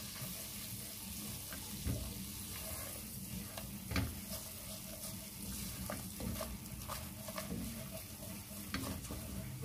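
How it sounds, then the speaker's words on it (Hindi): Maida flour being stirred and lightly roasted in a pan for white-sauce pasta: a soft, continuous frying hiss under quiet scraping of a spoon, with a few faint knocks, close but low in level. "अब हम इसे मिक्स करेंगे और इसे हल्का सा भूनेंगे।"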